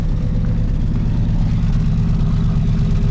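A 1968 Oldsmobile Delmont 88 with a 455 big-block V8 running after years of sitting, a steady, fairly quiet low rumble from the engine and exhaust, close by, with no talking.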